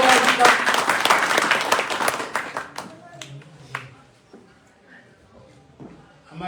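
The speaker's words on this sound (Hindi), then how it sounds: "जोरदार तालियों से स्वागत है" Loud, dense clapping greets a former legislator introduced at a rural political gathering, then fades out over a few seconds into scattered claps and quiet murmuring voices.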